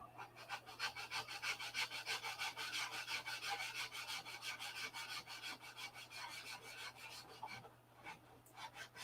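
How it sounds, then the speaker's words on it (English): Rhythmic rasping strokes of sanding on a small scale-model aircraft part for a P-47 build, steady back-and-forth rubbing close up with no talking. "once again, we're sanding all that shit off"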